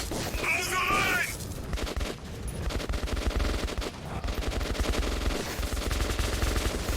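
Rapid gunfire from the Metro Exodus video game, dense automatic bursts rattling almost continuously with booming low rumble, loud and close, while a voice talks over the shooting.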